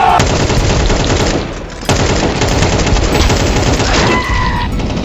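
Automatic gunfire in Counter-Strike 2 rattles almost without pause: loud, dense bursts of rapid shots with a brief dip in the middle, then the firing resumes.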